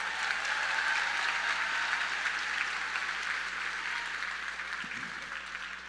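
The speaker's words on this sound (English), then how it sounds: "Let's give the teachers a big round of applause" Audience at a high school graduation ceremony applauding the teachers, a dense wash of clapping that holds steady and then eases slightly near the end.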